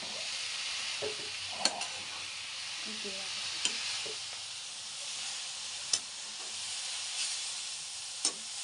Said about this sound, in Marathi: शेंगदाण्याचं कूट टाकलं मस्तपैकी परतून घ्यायचं